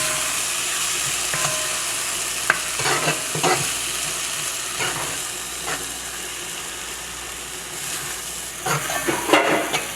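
Trinidadian breadfruit oil down being stirred in a pot after a tablespoon of salt goes in, with a steady sizzling hiss and intermittent scraping stir strokes close by, no talking.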